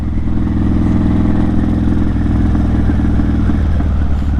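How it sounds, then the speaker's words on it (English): A motorcycle engine revving hard, close and loud, a throbbing mechanical drone with a slight lift in pitch near the end. "I kind of want to catch what my bike sounds like in RPM instead of at idle"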